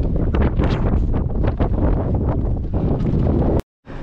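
Strong, sand-laden wind at Goblin Valley State Park, Utah, roars and buffets the microphone continuously, loud and rumbling, then cuts out abruptly near the end before resuming.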